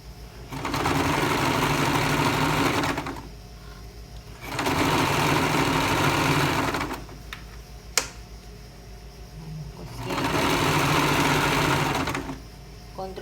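Stitching a seam on a garment, a sewing machine hums in three steady runs of about three seconds each, separated by quieter gaps with a brief click in one of them.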